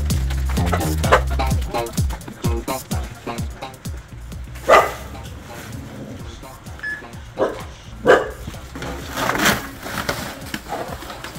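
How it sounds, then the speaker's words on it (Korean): A dog barks several times in short bursts on a city street in Seongdong-gu, Seoul, heard under steady conversation between people with road and handling noises around. "강아지가."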